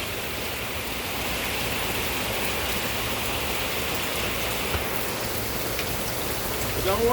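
Steady rain falls outdoors during a wet-weather fireworks attempt, a continuous dense patter of drops on surfaces that holds evenly throughout, with a slight swell near the end.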